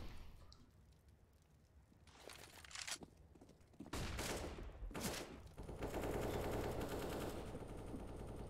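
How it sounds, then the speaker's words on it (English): Rifle fire during a competitive Counter-Strike match on the Vertigo map, with several sharp bursts of shots followed by sustained rapid automatic fire, fairly close and loud. "Some rifle fire at mid"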